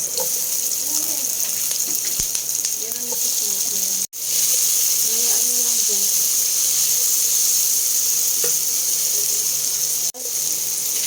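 Chopped tomatoes go into a hot pan over garlic and onion for a seafood dish, raising a loud, constant hissing sizzle with faint voices underneath and two brief dropouts.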